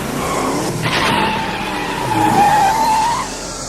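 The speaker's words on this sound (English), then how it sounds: "Hear that? It's his car." A car skids with a long, loud tire squeal that rises and holds before fading, heard up close in a Batman Knightfall scene with engine noise underneath.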